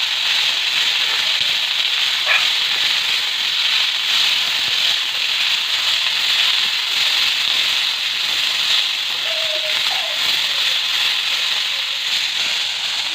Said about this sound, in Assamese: আলু আৰু মটৰখিনি 2-3 মিনিটমান এনেদৰে লৰা হোৱাৰ পিছত